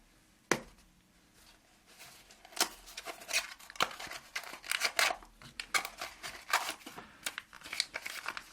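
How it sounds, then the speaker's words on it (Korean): Packaging for an STM32C0116-DK development board being opened: a sharp snap, then a run of close, uneven crinkles, tears and rustles of cardboard and paper. "다음으로 STM32C0116DK를 언박싱 해보도록 하겠습니다."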